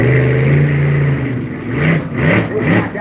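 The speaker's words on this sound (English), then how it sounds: "Hear how loud that truck roars" A monster truck engine at the Markham fair roars loudly close by, holding a heavy idle and then revving in repeated surges.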